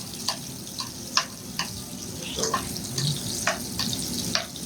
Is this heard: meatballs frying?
yes